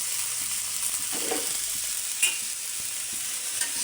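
Kochu (taro) pieces with turmeric, salt and coriander powder frying and being stirred in a pan, a steady soft sizzle under occasional scraping and clinking of the spatula, with no voices.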